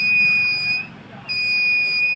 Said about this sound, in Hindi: जैसे ही वो ढक्कन खोलेगा ये बीप बजेगा